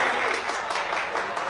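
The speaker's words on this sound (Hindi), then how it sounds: "इनके लिए जोरदार तालियां प्लीज" Loud, dense applause from an audience after a stage performance, a continuous wash of clapping filling the whole short moment, close and full with no speech over it.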